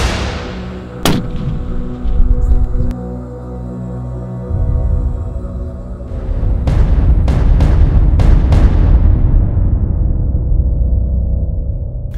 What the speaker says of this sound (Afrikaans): ek sit die kruisaar recht op sy blad en trek die snap.